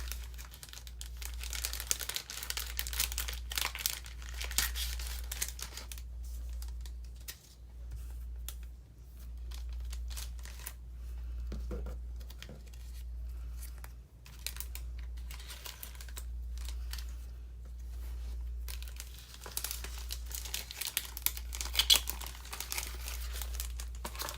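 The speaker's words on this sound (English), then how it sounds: "Now we get to peel stickers." Stickers are peeled off a backing sheet with faint, close crinkles and papery rustles scattered throughout, over a steady low hum.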